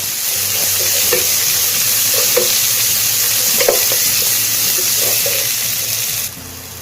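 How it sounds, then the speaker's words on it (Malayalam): Tomatoes sautéing in a hot pan for spiced rice give a steady close sizzle and fry hiss, with spoon stirring and scraping strokes against the pan throughout, ending abruptly. "തക്കാളി ഒന്ന് നന്നായിട്ട് വെന്തുടയുന്ന ഒന്ന് വഴറ്റിയെടുക്കാം."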